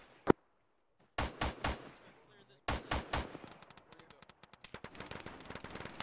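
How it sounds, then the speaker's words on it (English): Gunfire in the military shooter Arma during a fight around a three-story factory: a lone crack, then tight clusters of loud close shots, followed by rapid scattered fainter shots further off. "Taking fire from the north."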